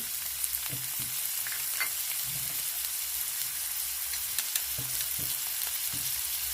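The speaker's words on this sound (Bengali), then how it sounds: "এর মধ্যে সাদা তেল দিয়ে দেবো। নারকেলগুলো দিয়ে দেবো, হলুদ গুঁড়োটা দিয়ে দেবো" Grated coconut with turmeric frying in white oil in a hot kadai, a soft continuous sizzle with occasional spatula stirs and scrapes, fairly quiet and without speech.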